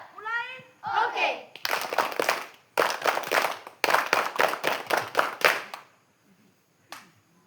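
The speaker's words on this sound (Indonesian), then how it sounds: "Satu kali tepuk pramuka siapkan." Children at an elementary-school scout (Pramuka) meeting perform the tepuk pramuka, a patterned group clap: bursts of rhythmic clapping near and loud after brief chanted voices, ending in a pause and one final clap.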